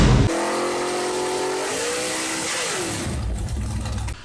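A V8 engine in a 1993 GMC/Chevrolet OBS GMT400 Indy pace truck with an LS swap runs loud and close, its pitch climbing as it revs up, holding high, then dropping back before cutting off.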